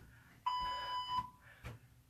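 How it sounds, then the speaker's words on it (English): A workout interval timer sounds a steady electronic beep tone lasting under a second. A short burst and a sharp knock follow in a quiet indoor space. "The timer threw me off."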